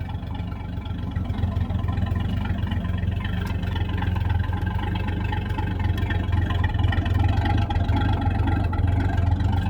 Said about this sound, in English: And the exhaust note out the back, when it's cold